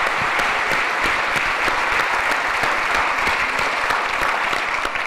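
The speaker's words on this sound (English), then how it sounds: "Let's give a round of applause to every single person that spoke today." Dense, steady applause from a conference audience at a mid-term rental summit, many hands clapping together loudly and evenly for several seconds.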